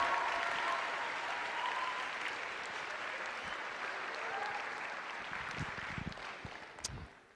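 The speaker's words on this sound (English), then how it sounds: "So could we give a big round of applause for Brandon Bird and ETN broadcasting tonigh" A senior night audience at a student recognition event gives sustained, fairly quiet applause that fades over about seven seconds, with a few scattered claps and noises near the end.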